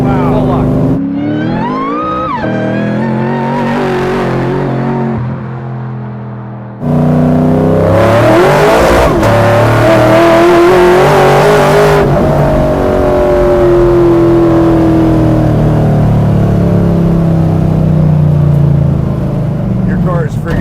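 A Buick Regal Grand National revs hard during burnouts, with loud, sustained engine roar and rising pitch sweeps, a brief lull, then a long howling run alongside voices talking.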